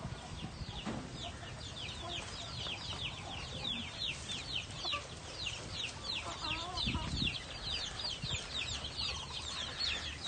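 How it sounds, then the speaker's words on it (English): A flock of farm chickens, four roosters and about twenty-five hens, cluck and chatter steadily throughout, with repeated overlapping calls close by and a brief louder squawk partway through. "This is all roaster and hen."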